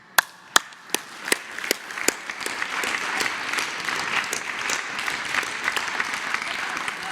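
Press conference audience breaking into applause, a few sharp distinct claps at first that quickly swell into steady, moderately loud group clapping.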